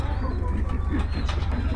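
Golden pigeons coo softly in a loft, low rounded calls repeating over a steady low hum, with a faint voice and birdcall chirps mixed in.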